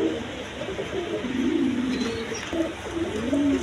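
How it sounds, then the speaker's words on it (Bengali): A pair of Danish pigeons, red three-bar birds, coo in low rolling phrases at a pigeon seller's pen, with a steady bed of room noise and faint chirps behind. "এখানে এক পেয়ার ডেনিশ কবুতর আছে"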